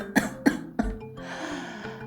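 Three sharp, angry coughs come in quick succession, followed by a softer, breathy exhale.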